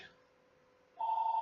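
A chapel telephone starts ringing partway through, a steady electronic ring that holds loud and clear after a quiet stretch of faint room noise.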